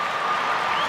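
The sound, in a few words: crowd applauding at Westminster dog show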